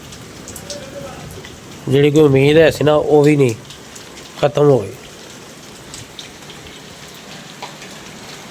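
Steady rain falls outdoors as a constant hiss across the whole stretch while someone talks in the middle, the downpour carrying on alone before and after his voice.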